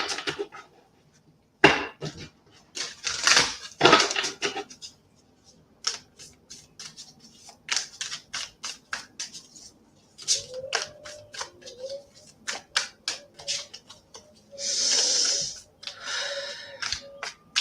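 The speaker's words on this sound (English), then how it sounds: "I'm just going to give these a really good shuffle as they're falling apart on me" A worn, falling-apart deck of tarot cards is shuffled by hand, giving close, crisp bursts of riffling and flicking that come in uneven clusters with short quiet gaps between them.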